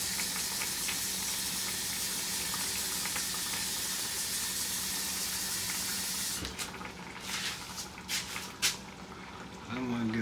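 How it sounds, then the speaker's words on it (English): Salt water for noodles pours into a pot in a steady, bright rushing stream that fills most of the stretch, then cuts off and gives way to clanks and handling noises. "I'm going to put salt water."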